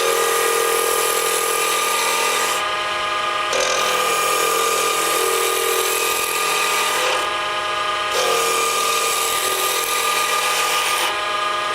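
A woodturning gouge cuts a spinning walnut globe ornament on a lathe, giving a steady loud whirring scrape with a pitched hum that eases in brief pauses and resumes.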